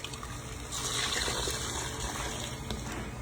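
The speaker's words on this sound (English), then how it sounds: "we're gonna take that same mixture and we're gonna pour it back into our saucepan" Chocolate pie filling mixture poured back into a saucepan, a steady close liquid trickle and pour with a brief louder gush partway through, heard alone.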